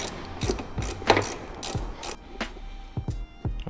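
A ratchet wrench working loose a screw on a Aprilia RSV4 motorcycle exhaust, close rapid clicking bursts in short repeated strokes with brief pauses between them.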